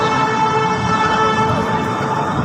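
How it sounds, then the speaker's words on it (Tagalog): A loud, steady ambulance siren wails nearby with a droning engine underneath, heard continuously in a New York city street. "Lalo ng ambulansya."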